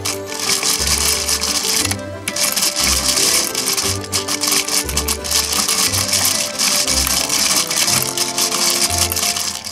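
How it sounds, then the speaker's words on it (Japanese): Cranking a plastic Precure toy bead maker produces a rapid, continuous mechanical whirring and rattling in rhythmic pulses, mixed with background music. "くるくる回すだけでビーズが紐の中に通っていくよ。"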